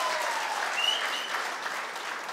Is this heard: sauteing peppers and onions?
no